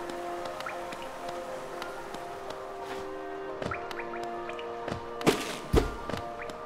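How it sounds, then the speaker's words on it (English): Rain patters on glass in the video game Hollow Knight: soft, scattered drips and taps over a sustained tonal ambient hum, with a few louder drops near the end. "I so love the sound of rain upon glass."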